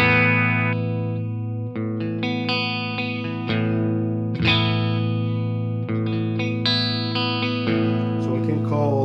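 A PRS Custom 24 electric guitar played through an ENGL Thunder 50 amplifier on its clean channel, with chorus, delay and reverb in the chain: ringing sustained chords and picked notes, loud and close, with no talking.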